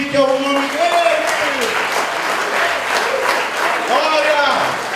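A church congregation at a youth worship service applauds loudly and continuously, a dense crowd of clapping with voices calling out over it.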